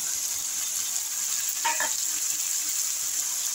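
Cumin, chilli, turmeric and coriander powders fry in oil with a steady soft sizzle, broken by a short scraping stir near the middle.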